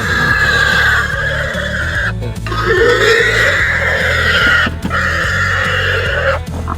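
Four pigs being loaded for market squeal and scream loudly and continuously, in long shrill bursts with brief breaks, close by with a low engine hum beneath.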